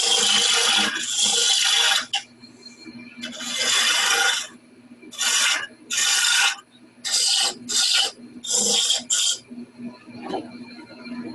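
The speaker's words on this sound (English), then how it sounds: "I'm just using a spindle gouge" A spindle gouge cuts a small acorn-shaped birdhouse ornament on a wood lathe, giving loud, close rasping bursts of shaving that start and stop in irregular strokes with quiet spinning between them.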